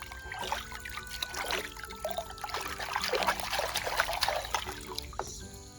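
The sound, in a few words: water trickling while cleaning toys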